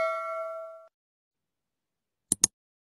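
A bright bell ding rings out and fades, followed after a pause by two quick sharp clicks.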